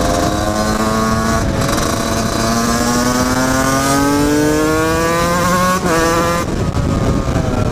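A Husqvarna 125 CR supermoto motorcycle engine revs loud and close, pitch climbing steadily through long pulls with brief drops between, with no voices.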